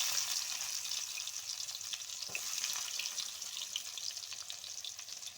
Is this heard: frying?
yes